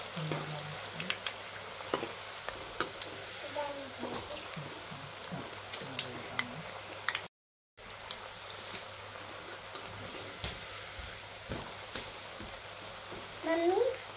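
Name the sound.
coriander bhaji frying in oil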